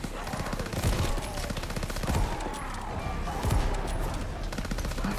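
Rapid gunfire rattles in Call of Duty zombies mode, repeated bursts and volleys of shots crackling steadily through the whole stretch at moderate loudness with no talk over them.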